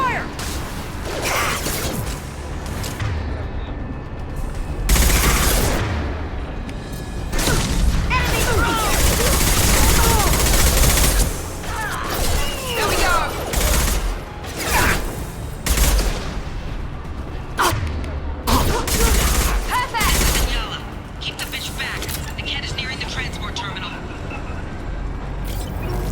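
Gunfire in the video game Mass Effect Legendary Edition, with bursts of rapid shots, booms and mechanical clanks mixed with game music and voices talking over the combat.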